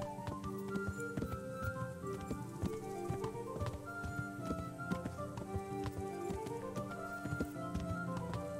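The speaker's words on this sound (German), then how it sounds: "Hier komme ich mit dem Pferd." Rhythmic clip-clop of horse hooves trots steadily throughout in the video game Kingdom Come: Deliverance, fairly quiet, over a looping musical background.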